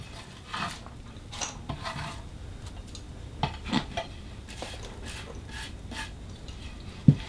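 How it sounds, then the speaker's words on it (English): Cabbage is stirred in a pan for carne apache, making soft scraping and rubbing sounds with occasional light clinks of a utensil against the pan, at close range and fairly quiet. "let's go ahead and add the cabbage"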